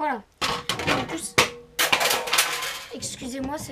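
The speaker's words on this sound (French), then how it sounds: "c'est la scie qui est tombée." A saw falls in a workshop, giving sharp metallic clattering bangs with several impacts over a few seconds, close by, mixed with handling noise and a voice speaking briefly.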